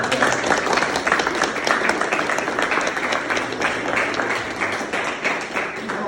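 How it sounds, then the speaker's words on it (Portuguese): A seminar audience in Brazil claps together, a dense, steady burst of applause from a sizable crowd that holds evenly throughout, close and fairly loud. "E uma salva de palmas recepcionária primeiro"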